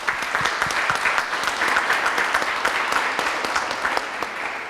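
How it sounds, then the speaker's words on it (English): Steady, fairly loud audience applause at a closing plenary session, many hands clapping continuously as thanks to the interpreters. "Let's give them a round of applause."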